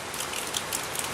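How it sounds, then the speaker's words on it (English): Steady outdoor rain during Hurricane Irma, a dense, even patter of drops on surfaces, close and continuous with no voices. "we're starting to get a little bit of rain"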